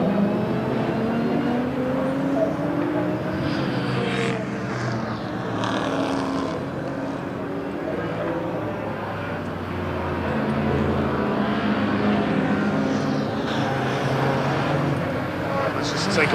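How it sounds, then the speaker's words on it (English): Caterham race cars racing at Brands Hatch Indy circuit, a continuous loud blend of engines droning and rising and falling as cars pass, with a commentator talking over the noise. "Take a pause there and listen to these wonderful engines."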